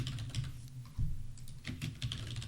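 Rapid clicking of computer keys being typed, steady with brief pauses, close and fairly quiet over a low background hum.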